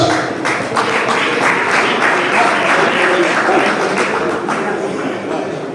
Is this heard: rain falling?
no